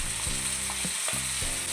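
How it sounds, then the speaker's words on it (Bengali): Ground turmeric, cumin, coriander and Kashmiri chilli powders sizzle steadily in a pan with softened tomato, the frying base for a hotel-style egg curry, with a few scraping stirs of a spoon, close and fairly quiet. "মশলাটাকে ভালো করে ভেজে নেব।"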